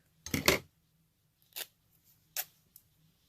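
Three short rips of brown paper bag, the first longer and louder, then two quick brief tears, close by in a quiet room.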